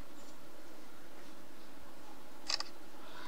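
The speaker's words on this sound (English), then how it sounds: "if you take a picture using shutter button, while pressing shutter button, there will be a sound, clicking sound" A single short shutter click from a Samsung Galaxy S23 Ultra camera sounds once, crisp and close, against a quiet room.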